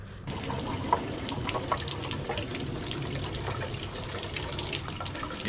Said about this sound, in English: I'm just gonna go turn the water hose on and let it run for a couple minutes and flush the system out.